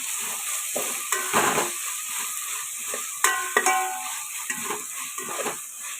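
Chopped coriander and mint fry in a pan for Telangana-style bagara rice, a steady close sizzle broken by several bursts of stirring and spoon scrapes against the pan, with no voices.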